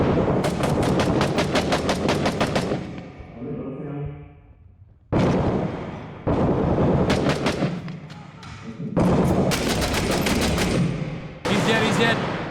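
Video game Six Days in Fallujah: loud bursts of rapid machine gun and rifle fire come in several volleys separated by short gaps, with reverberant tails and radio-like voices in between.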